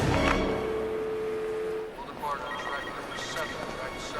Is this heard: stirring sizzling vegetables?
no